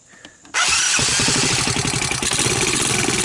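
A Honda TRX200SX ATV engine cranks briefly and then fires up with the choke on, settling into a loud, steady, fast-pulsing idle close by.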